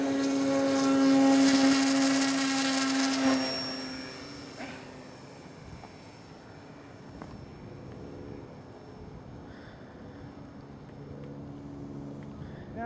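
An RC ParkZone F4U Corsair model plane's engine whines loud and steady overhead during landing practice in the snow, then cuts out after about four seconds, leaving faint wind and quiet ambience as the plane glides.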